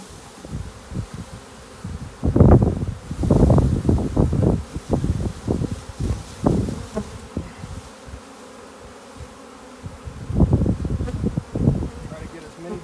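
A honey bee swarm buzzes in a dense, shifting drone during a capture, loud and close with surges as the insects are disturbed, mixed with rustling and wind noise on the microphone.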